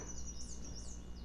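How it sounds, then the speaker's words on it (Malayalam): Small birds chirp steadily from a plant on church grounds, with thin overlapping tweets that stay faint and continuous throughout. "ഇതുണ്ട് ചെടി കിളികളുണ്ട് അതിൽ ഒരുപാട്"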